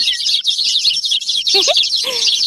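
Dense, bright chirping from many birds in a large forest, continuous and loud, with a few lower whistled calls standing out near the end.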